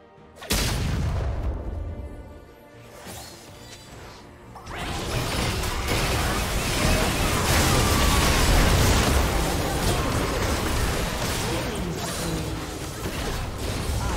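Crashing, booming destruction effects from a League of Legends match as a turret and then an inhibitor fall, a dense sustained clatter of explosions that swells after a quieter opening and rolls on with game noise underneath.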